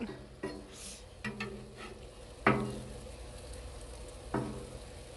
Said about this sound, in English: we're going to take our bananas now and go ahead and give them a turn